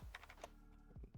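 Quick bursts of clicks from a computer keyboard being typed on, close and fairly quiet, with a short pause between two clusters of keystrokes.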